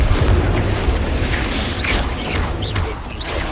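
Confringo blasting-spell explosions in Hogwarts Legacy, a loud dense rumbling boom with crackling debris and mechanical clatter sustained throughout, with faint higher swooshes and no speech.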